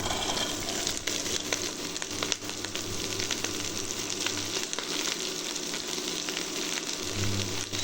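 Prawns and onion fry together in a pan, giving a steady, close hiss and crackle of hot oil that carries on without a break.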